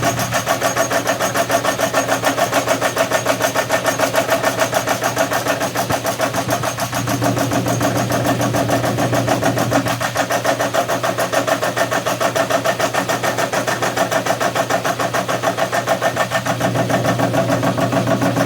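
A homemade fly cutter turning at 350 RPM machines hot rolled steel, giving a steady loud mechanical drone with rapid repeating cutting ticks and a few periodic thumps throughout, no voices.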